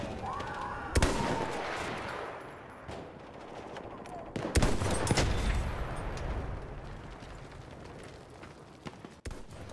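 Gunfire in the video game Battlefield 1 during close-range fighting: loud bursts of rapid shots and sharp single cracks with reverberant booms, spread across the clip amid game noise.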